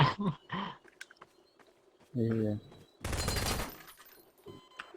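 Gunfire in a Garry's Mod Prop Hunt match, a dense burst of rapid shots that stands out clearly among shorter clicks and game noises, with players talking around it.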